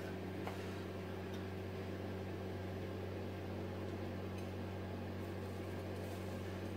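A camp stove burns steadily under a Stanley cook cup, giving a constant close hum and hiss with no break and no talking.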